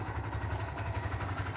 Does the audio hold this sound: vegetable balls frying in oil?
no